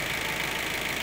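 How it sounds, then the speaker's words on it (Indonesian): A Daihatsu Gran Max engine idles smoothly and steadily, a continuous even hum heard close up with no voices over it. "Nah mesinnya bersih yo, mantap yo, mesinnya bersih, halus yo."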